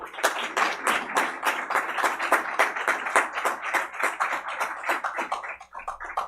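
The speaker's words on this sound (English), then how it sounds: "let's give them one more round of applause" Audience applause for newly sworn-in school trustees at a school district board meeting, a dense, steady round of many hands clapping close and loud for about six seconds, with no talking.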